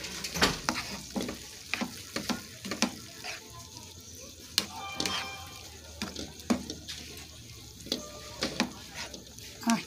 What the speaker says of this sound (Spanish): vamos a echarle los ajos machacados